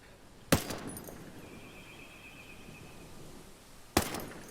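An M4A1 Scout rifle with its suppressor removed, fired in Ghost Recon Breakpoint, with two sharp, loud single shots about three seconds apart, each trailing off in a brief echo.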